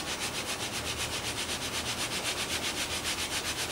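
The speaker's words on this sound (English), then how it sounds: "And now we're going to screed it." Wet concrete countertop being screeded, a straightedge dragged back and forth in short strokes over the mix, giving a steady rhythmic rubbing and scraping that repeats evenly throughout at close range.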